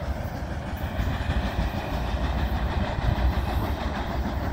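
A southbound CN empty grain freight train, led by an ES44DC and an ET44AC locomotive, rumbles past close by on the Champagne subdivision with a steady rolling clatter of wheels over rail.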